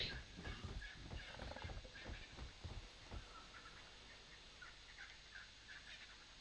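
Terror chicken creature in the Ark Survival Ascended video game, giving a series of rapid gobbling, turkey-like clucks in the opening three seconds, then fading into quieter ambient game noise.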